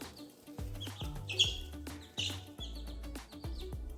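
Small chicks peep and chirp in quick, high bursts amid low clucking and scattered knocks, fairly close by, just after being let out from a cramped space into a larger free-range area.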